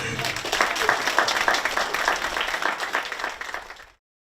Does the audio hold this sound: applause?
yes